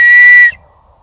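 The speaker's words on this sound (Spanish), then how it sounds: "pega un silbatito y ya está" A small cheap plastic safety whistle gives one short, loud, shrill blast lasting about half a second, then cuts off to near silence.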